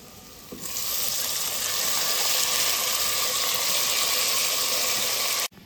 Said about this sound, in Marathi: कांदा मस्त झालेला आहे, मी घालते मटण।